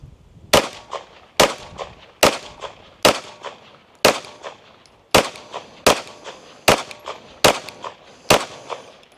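A pistol with a Redwin Cobra green dot sight fires 125-grain reloads in a ten-shot string, loud, sharp reports spaced about a second apart, each with a short ringing decay.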